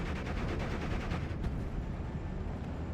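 Dual light machine guns of Panzer Grenadiers firing in a Steel Division WWII strategy game, a dense, continuous rattle of bursts mixed with distant battle noise, steady and moderately loud throughout.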